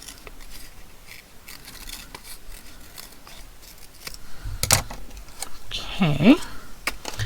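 Scissors snip through paper while a small mouse figure is fussy-cut out, giving soft close crisp cuts and rustles that grow louder toward the end, with a faint voice and a brief squeak of movement.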